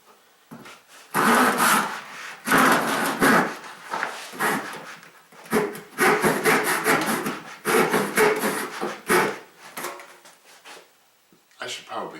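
A hand saw cutting wood with rhythmic back-and-forth rasping strokes, loud and close, in repeated bursts with short pauses between them.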